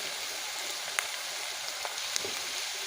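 Onions and tomatoes sautéing in an oil pan for a green turkey berry (sundakkai) kuzhambu, giving a steady, quiet hiss of sizzling with a few faint pops and no talk.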